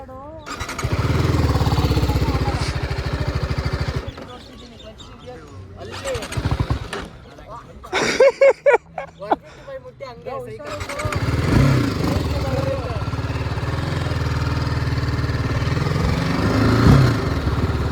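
A motorcycle engine revs and drones steadily, with gaps where it drops off and sharp revs in between, then the engine builds again, while people talk over it.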